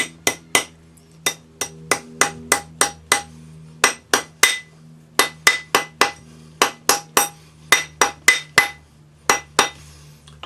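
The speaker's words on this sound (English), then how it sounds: "use your rawhide hammer, because we want our pattern to curve around the" Sharp, ringing rawhide hammer taps on a metal ring on a mandrel come in quick irregular bursts, close and loud, with a faint steady hum underneath.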